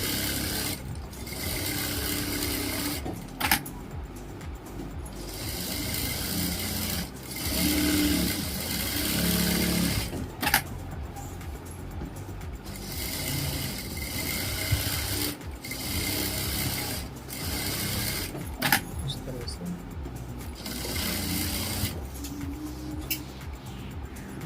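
A sewing machine stitches long running stitches across Patiala salwar fabric, a loud close whirring motor chatter in long bursts separated by brief pauses and clicks.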